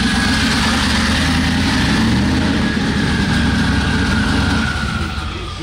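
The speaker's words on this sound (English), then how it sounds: "Engine is not sounding stoked." A drag car engine at the TX2K21 drag racing event idles roughly and unevenly, running steady and loud up close with a broad low rumble throughout, no talking heard.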